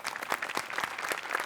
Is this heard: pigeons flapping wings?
no